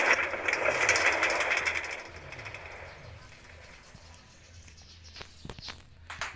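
Train ride with a broad rumbling, hissing roar that fades after a couple of seconds into quieter rattles and sharp clicks, with a few faint bird-like chirps and footstep-like taps; a voice is briefly present.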